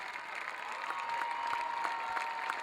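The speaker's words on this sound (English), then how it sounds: "So get to your feet and give them a great round of applause." Spectators at the 2015 Polocrosse World Cup final give the women's team a steady round of applause, a dense wash of clapping from a sizeable crowd, moderately distant and swelling slightly as it continues.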